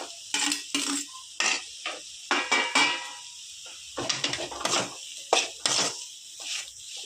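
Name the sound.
mixing fried grated boiled potato in a pan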